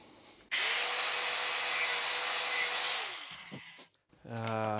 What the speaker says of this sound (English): I think I'm just going to use the grinder and hopefully don't take too much off